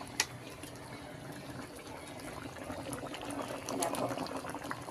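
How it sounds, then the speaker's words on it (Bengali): Fish curry simmering in a pot, a soft continuous bubbling with small pops that grows slightly louder toward the end. "দেখো, ঝোল ফুটছে, মাছ দেওয়া হয়ে গেছিলো, মাছের ঝোল ফুটছে"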